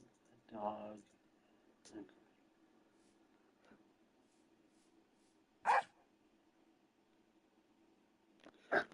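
Minecraft dog barking and whimpering, a few short separate yelps and barks spaced several seconds apart, fairly clear against a quiet background.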